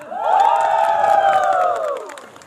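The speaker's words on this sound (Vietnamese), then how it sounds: "xin một tràng vỗ tay lớn nữa đúng không ạ" A crowd cheers after a lively stage performance: a swell of shouts and whoops rises quickly, holds for about two seconds, then fades away.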